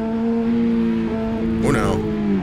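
Yamaha R6 motorcycle engine in Assetto Corsa on the Nürburgring, a loud steady high-revving whine with a brief burst of noise near the end as the pitch shifts, close and continuous.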